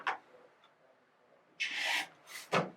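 A rotary cutter slices a 2½ inch fabric strip for quilting, heard as a short scrape followed by two brisk, close cutting strokes, quiet otherwise.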